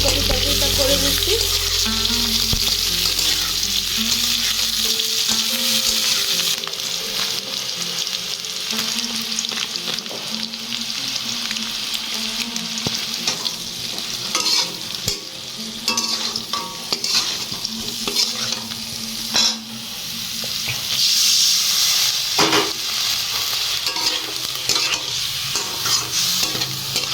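Cauliflower curry cooking in a pan at home, a strong steady sizzle with frequent scraping and clattering as it is stirred, close and loud throughout.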